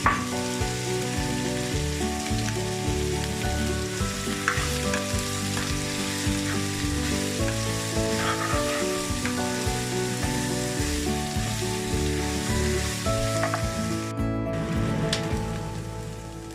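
Two medium onions dropped into hot oil for Sri Lankan fish egg rolls, crackling in a loud, continuous rain-like sizzle with a few clicks and scrapes from stirring, no voices over it.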